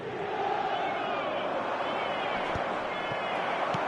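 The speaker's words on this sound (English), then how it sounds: "a lot of applause for the thought" Crowd applause and cheering at a football match, a steady dense roar filling the whole short stretch at close, even loudness.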